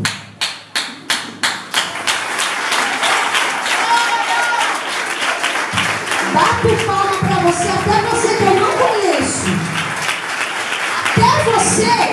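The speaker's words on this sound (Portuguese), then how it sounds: "Essas palmas são pra você" Audience applause from a congregation at a women's church gathering led by a pastor, beginning as a few loud rhythmic claps that swell into sustained clapping, with a voice speaking over it.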